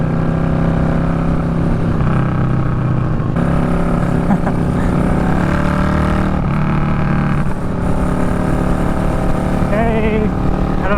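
A motorcycle engine roars steadily at high revs with exhaust crackle, loud and close throughout, mixed with wind and road noise.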